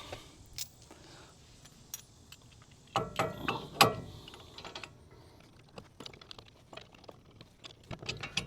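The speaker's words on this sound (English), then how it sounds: "now's the easy part, just bolting it up" Lug bolts being threaded and run down by hand to fit aftermarket JDM wheels and adapters on a BMW E30 drift car, giving close, scattered metallic clicks and ratcheting taps with a denser burst of rattling partway through.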